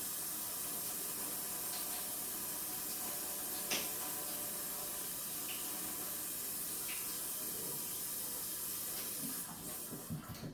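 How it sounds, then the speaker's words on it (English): Water runs from a tap in a steady, loud, hissing rush that fills the whole stretch, easing slightly near the end. "I don't know if y'all can hear me over this water"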